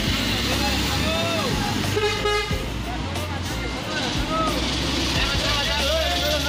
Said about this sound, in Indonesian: Ini dia bus dari Sumber Selamat datang dari arah Surabaya